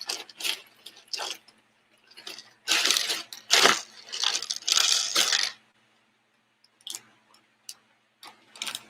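Loose plastic toy bricks from a Star Wars set clatter and rattle in bursts, tumbling and scraping against one another close by, with short pauses between handfuls and a few lighter clicks toward the end.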